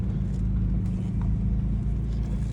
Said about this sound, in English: Mostly all M3s, BMW's M3s, the sound is like that,